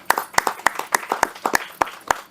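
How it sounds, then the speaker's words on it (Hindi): Rhythmic clapping at a movie trailer launch honoring the producer, a few nearby hands beating in a steady, even pulse, loud and close with no other sound over it. "आपके लिए तालियां सर।"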